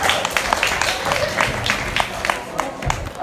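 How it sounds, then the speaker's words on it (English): Audience applause after a Rubik's Cube magic show performance, moderate crowd clapping with distinct sharp claps over a murmur of voices, steady throughout. "so round of applause for them."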